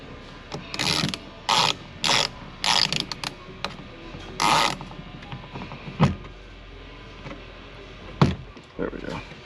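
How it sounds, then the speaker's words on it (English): A ratchet and socket loosening the door bolts on a 2018 RAM Quad Cab passenger door: bursts of rapid mechanical clicking, close and fairly loud, separated by short pauses and a few clunks. "Anytime your socket gets stuck to the to where you're trying to remove the bolts, you can always just tighten it back in and then just yank it out."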